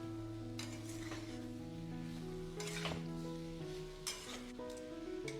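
Potatoes added to mixed vegetables and spices frying in a pan for a Bengali vegetarian khichuri: a steady sizzle with stirring scrapes and a few utensil clinks against the pot, over a faint musical background.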